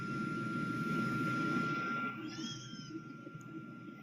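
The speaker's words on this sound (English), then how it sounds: "You can hear the jet." A United Airlines jet cruising high above the clouds on a December flight, heard as a steady, dense broadband roar with a faint whine; the drone eases and softens slightly about halfway through.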